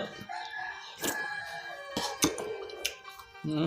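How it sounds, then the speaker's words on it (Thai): A rooster crows amid a busy outdoor scene, with bursts of clatter and background noise around it at moderate loudness. "โอ้เสียงไก่"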